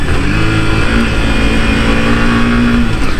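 Yamaha R15 v3 150cc sport motorcycle engine held at high revs around 6,000 RPM, a loud, steady, continuous drone close to the listener with no speech.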